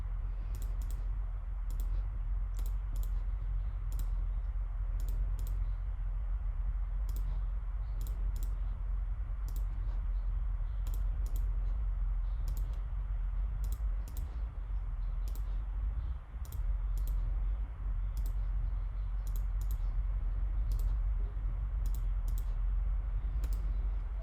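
A computer mouse clicks steadily while animation frames are built in Photoshop, giving sharp, close single and double clicks at irregular intervals over a constant low room hum.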